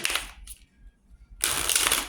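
Objects shuffled by hand make two bursts of rattling, clicking handling noise, one short and one longer, separated by a quiet gap.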